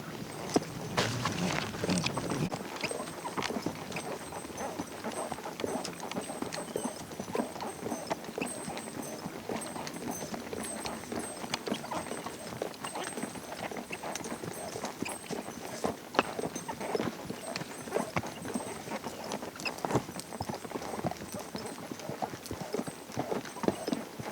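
Gaited mules on a Colorado trail ride clip-clop steadily, with hooves striking the trail in a continuous, close, even rhythm that carries on without a break.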